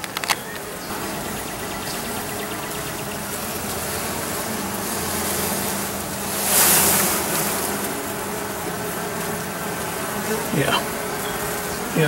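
Honeybees bearding outside a top bar hive make a loud, constant buzz close by, a steady droning hum that swells for a moment as bees fly past near the middle.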